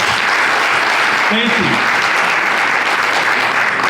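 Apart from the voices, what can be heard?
audience applauding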